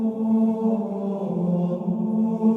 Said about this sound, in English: We had Gregorian chant. It was basically a lot of men in a big church,